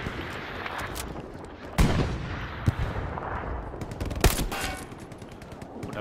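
Gunfire in the World War II shooter Hell Let Loose, with several sharp, loud shots standing out over a continuous rumble of distant battle and scattered fire, and no talking.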